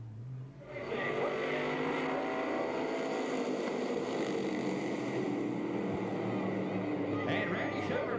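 Limited sportsman stock cars race on a track, a steady loud engine roar filling the whole stretch after a brief quieter start, with a commentator's voice faintly mixed in.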